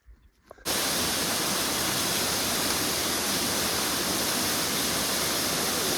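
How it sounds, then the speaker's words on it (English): A waterfall on a hiking trail in New Hampshire's White Mountains roars close and loud after a brief quiet moment, a dense constant rush of falling water filling the rest of the clip. "Taking a video of the waterfall."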